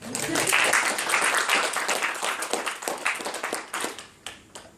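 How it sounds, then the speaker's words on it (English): Audience at an Effective Altruism meeting gives a round of applause, dense clapping from a small room that stays loud and close, then trails off into scattered claps at the end. "so we do another round of applause, I think."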